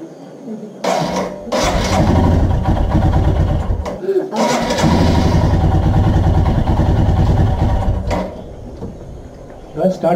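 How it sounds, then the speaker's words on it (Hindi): A Royal Enfield Himalayan motorcycle, left standing for a month and a half, cranks and catches after a brief pause, its engine running loud and close but unevenly, cutting out and restarting once near the end. "So let's start the bike guys."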